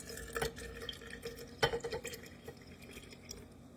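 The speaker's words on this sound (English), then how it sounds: "we're going to add 150 grams of lukewarm water, which I pre-poured." Lukewarm water poured into a sourdough starter on a kitchen scale, a soft uneven trickle and splash with a few louder drips, close and quiet, with no talking.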